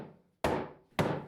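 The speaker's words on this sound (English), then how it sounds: "Sometimes I have to get creative with hammering parts that fit a little too tightly." Two sharp, heavy hammer blows driving tight-fitting parts together land about half a second apart, each ringing briefly before fading, close and loud.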